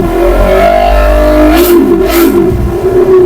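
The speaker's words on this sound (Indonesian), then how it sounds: "langsung saja aku cek soundin untuk suara mesinnya ya" A motorcycle engine revs hard, giving a loud, continuous harmonic drone that climbs in pitch midway before settling back, with no talking.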